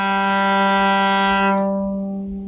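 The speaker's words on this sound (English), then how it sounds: "The lowest sound on the violin sounds like this." A single sustained low bowed violin note, the instrument's lowest, with rich harmonics, steady and close, fading away at the end.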